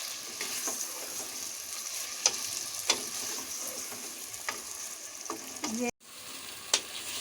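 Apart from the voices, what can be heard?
potatoes and chicken frying with cumin, tomatoes added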